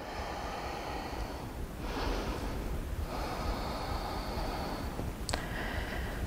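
Slow, audible breaths drawn in and pushed out during a crescent twist in a hip-focused yoga session, a few breath cycles close to the mic with a sharper snort-like exhale near the end, no talking.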